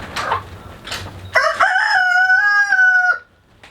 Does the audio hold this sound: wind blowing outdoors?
no